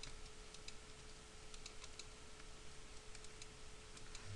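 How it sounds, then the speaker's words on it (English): Soft, quiet key presses on a computer keyboard, scattered taps as arrow keys are pressed over a steady background hum, with no talking. "I'm going to try to use my arrow keys to navigate."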